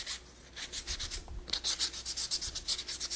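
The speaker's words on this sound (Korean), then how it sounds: "이렇게 하셔서 전체적으로 사포를 해주시고요." Sandpaper rubs a round wooden board in quick, even back-and-forth strokes, a soft rasping hiss close by that pauses briefly, then resumes at a faster, steady pace.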